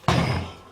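A plastic Pepsi bottle tips over with a single dull thud, then a short decaying rattle as it settles, close by with no talk.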